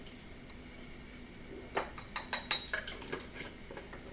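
A metal measuring spoon clinks and taps lightly several times against containers while spices are measured, faint and close, in a quiet kitchen.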